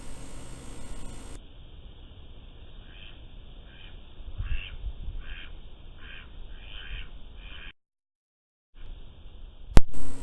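Ducks quack in a quick, rhythmic series against steady background hiss, the calls moderately close, followed by a brief silence and a sharp knock at the end.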